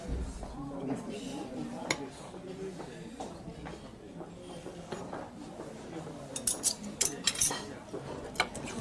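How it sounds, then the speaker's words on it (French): A knife slicing pineapple into rings, with clinks and taps of metal against a board under steady talking, sharper crisp cuts clustering near the end. "je remets encore un coup de couteau sur 2 cm à peu près"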